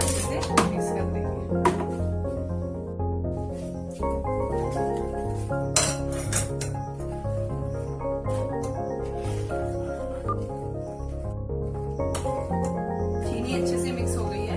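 A spoon clinks and scrapes against a bowl while powdered sugar is stirred into a mango dessert, giving repeated light taps and clatters under someone speaking throughout.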